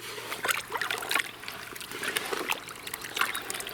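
Sugar being stirred into warm water for fermented corn carp and grass carp bait, giving soft irregular sloshing and trickling with small splashes, close by and fairly quiet, with no talk.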